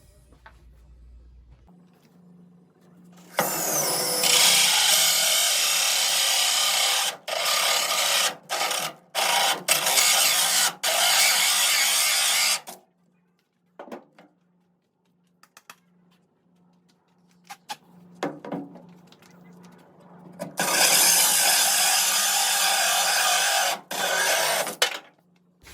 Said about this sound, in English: we're going to go ahead and drill our hole